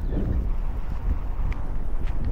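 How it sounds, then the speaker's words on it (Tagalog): Steady, rough wind buffets the microphone throughout, a continuous low roar with no pauses and no one speaking. "Malakas na naman yung hangin."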